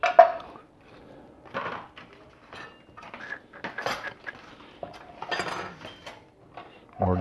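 Butter knives and dishes being shifted around on a kitchen counter, giving scattered clinks, clatters and scrapes at irregular intervals, fairly close and moderately loud with quiet gaps between.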